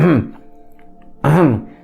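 A voice imitates throat clearing twice, two short gruff vocal bursts separated by about a second of quiet, close and fairly loud.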